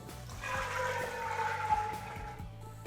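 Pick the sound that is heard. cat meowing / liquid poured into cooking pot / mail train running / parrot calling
liquid poured into cooking pot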